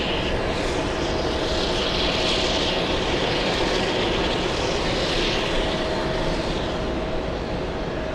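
A jet airliner arriving on runway 22 left at JFK roars steadily overhead, a loud broadband engine rush with a whining tone that swells and fades slightly, with no voices.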